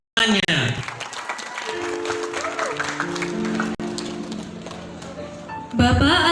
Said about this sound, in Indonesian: Tepuk tangannya.